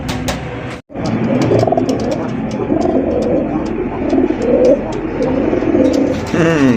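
Close, continuous low cooing of pigeons, several birds overlapping in a rolling rhythm, with brief clicks and a short gap near the start.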